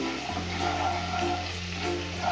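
Spice paste with a splash of water frying in a pan for a khoira fish curry: a steady, close sizzle with a low, even bubbling hiss throughout and no talk.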